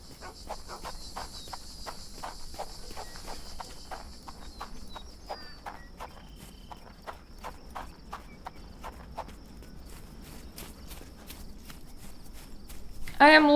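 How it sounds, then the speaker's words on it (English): Footsteps in the video game Sherlock Holmes The Awakened clop like a horse, a steady run of hollow hoof-like taps over faint crickets, with talking near the end. "My shoes sound like a horse."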